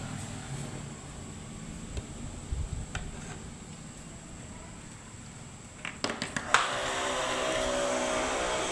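A homemade foaming machine for a coin-operated carwash vending unit runs with a steady motor whir, then a few clicks and a sharp hiss as it kicks into a louder, brighter spray near the end.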